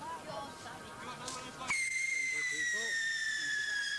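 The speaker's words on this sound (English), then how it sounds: "Fireworks." Whistling firework rockets shriek upward at an outdoor Bonfire Night display in 1992, one long falling whistle rising clearly above crowd chatter and background noise.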